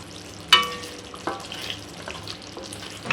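A thick tofu paneer curry is stirred in a pan after coriander powder and garam masala are added, with soft scraping and a faint low simmer, opened by one sharp clink of the spoon against the pan.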